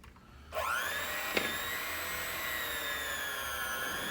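An electric hand mixer starts up and whirs steadily through butter and sugar, a close, high, whining motor drone that holds level after a brief knock against the bowl.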